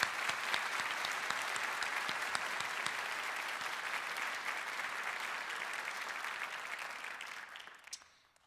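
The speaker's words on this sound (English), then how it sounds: "So again, a round of applause for Carmenta." An audience at a medical school white coat ceremony applauds steadily for about seven seconds before the clapping tapers off and stops.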